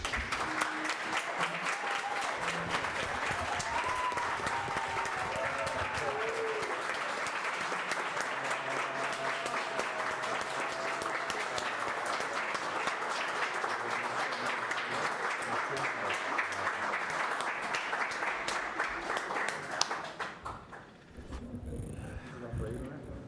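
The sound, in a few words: audience applauding at end of solemn session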